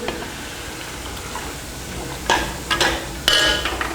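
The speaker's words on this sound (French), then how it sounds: "Donc on va laisser d'abord les légumes mijoter un peu." Vegetables simmering in a pot with a little water give a soft, steady sizzle, then several loud metallic clinks and scrapes as a utensil stirs against the pot near the end.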